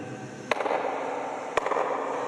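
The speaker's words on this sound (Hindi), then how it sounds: "यहाँ ताली बजाएं तो एक आवाज आती है" Two sharp hand claps inside Golconda fort, about a second apart, each followed by a short, echoing decay in the stone interior over a faint background hiss.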